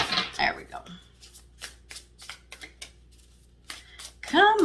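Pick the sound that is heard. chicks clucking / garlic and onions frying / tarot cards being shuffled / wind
tarot cards being shuffled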